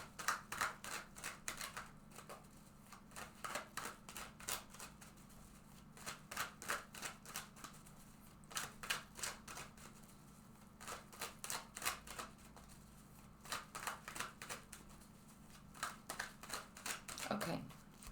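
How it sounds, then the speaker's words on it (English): Tarot cards shuffled by hand up close, repeated bursts of crisp riffling clatter in quick rhythmic runs separated by short pauses, with a low steady hum underneath. "I'm shuffling here right now in front of you."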